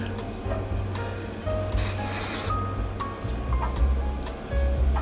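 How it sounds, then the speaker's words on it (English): A broadband hiss of an aerosol hairspray can spraying in a sustained burst, close by, over a low background hum. "I take this hairspray"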